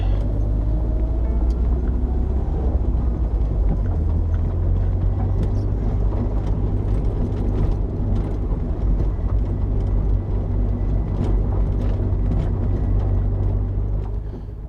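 An Alfa Romeo Duetto Spider drives along a road, its engine a steady, loud low rumble that holds without a break from start to finish.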